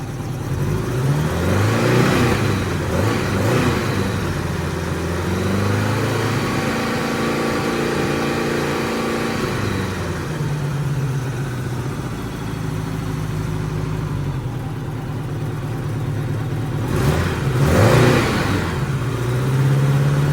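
A Honda Goldwing GL1200 motorcycle engine needing carburetor work runs close by, idling with a steady rumble and rising into several revs whose pitch sweeps up and falls back, no voices.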